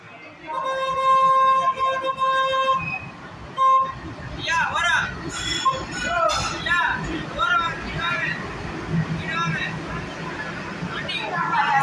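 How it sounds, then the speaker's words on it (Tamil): A Rockfort Superfast Express stands at a platform in Tiruchirappalli station while a loud sustained horn blares, then gives way to crowd babble, announcements and scattered honks, with people talking throughout. "நம்ம வண்டி ரேக்ஸ் எடுத்துகிட்டு நம்ம பிளாட்ஃபார்ம் நம்பர் 1ல் போட்டு வச்சுட்டாங்க"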